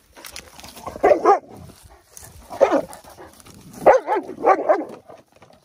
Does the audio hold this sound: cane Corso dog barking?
yes